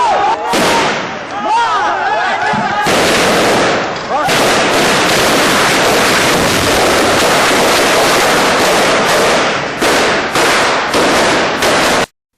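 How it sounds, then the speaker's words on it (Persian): Gunfire aimed at protesters during a street demonstration in Faryab, a loud continuous barrage of rapid cracking shots and bursts echoing over about twelve seconds. "این افراد با شلیک به سوی مظاهره کنندگان حمله ور می‌شوند"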